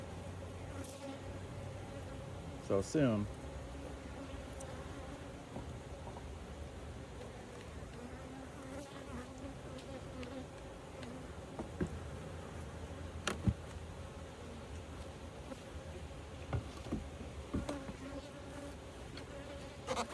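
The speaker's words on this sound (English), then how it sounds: "But there's bees working on it." Honeybees hum steadily at an open hive in an old beehive, a soft continuous drone with occasional closer buzzes passing by; a voice speaks briefly.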